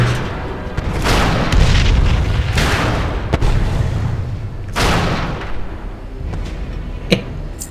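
A siege engine or cannon firing in World of Warcraft: Warlords of Draenor, several heavy booms with rumbling tails spaced a few seconds apart, loud and close, plus a sharper crack near the end.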